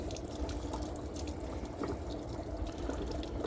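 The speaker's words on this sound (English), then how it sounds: "You see the water now coming out of the boiler as well." Water draining from a small pipe beneath a camper van boiler as it is emptied for winter, a steady close splashing trickle and pour that runs continuously without talk.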